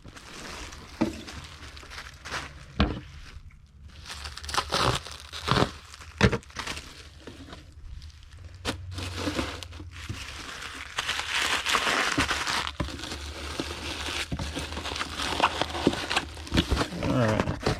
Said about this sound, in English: we need a sheet of bubble wrap that we'll cut in half